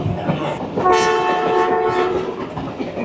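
A ZCU diesel locomotive horn on the Rawal Express sounds loudly for about a second and a half, a harmonic blast over the rumble and clatter of the moving train.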